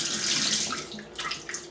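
Cold water runs steadily from a bathroom tap, a soft continuous hiss and splash with small shifts in flow, fairly quiet and close, with no voices.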